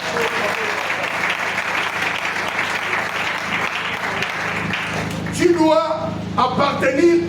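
A church congregation applauds steadily in acclaim of the Lord during a confirmation teaching service; the dense clapping fills the room, then a voice speaks over it near the end.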